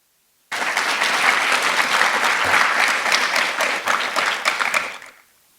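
Sustained applause from an audience at a school board meeting honoring students: dense, steady clapping starting abruptly, holding for about four and a half seconds, then tapering off.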